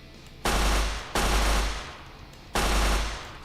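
A weapon in the Minecraft HBM Nuclear Tech mod fires three heavy, booming shots, each a loud blast with a deep thump that decays before the next, with no talking.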